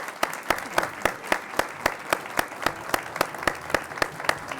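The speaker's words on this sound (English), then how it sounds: "can we have a big round of applause for Sister Joseph?" A small audience at a leadership talk applauds a nun, the claps sounding sparse and individually distinct, with a steady rhythm at moderate loudness for a few seconds.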